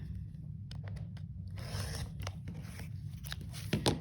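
Scissors trim the fabric sides of a shaded four-patch quilt unit, making a few close, crisp snipping and crunching cuts in quiet surroundings.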